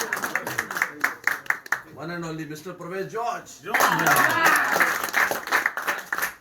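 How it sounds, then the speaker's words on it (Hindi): Audience applause at a cricket festival's first-anniversary ceremony in Okara, Pakistan: a presenter speaks over scattered claps, then dense clapping swells loudly and continues to the end. "तालियां।"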